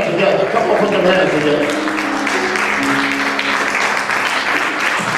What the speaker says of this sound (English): Come on, let us stand and give God another round of applause.